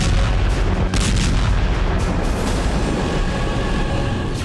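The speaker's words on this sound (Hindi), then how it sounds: "यूक्रेन ने रियाजान और रोस्तोव में एक बार फिर से ड्रोन विस्फोट किया।" Drone strike explosions hit Russian energy sites, heard as a loud, continuous rumbling roar with a few sharper bursts, no voices.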